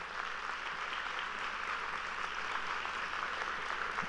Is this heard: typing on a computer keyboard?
no